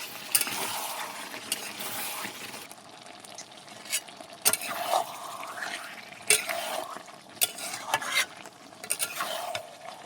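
Buffalo meat sautéing with ginger, kohlrabi and potato in a covered pot, giving a steady close sizzle with intermittent scraping stirs and clinks throughout.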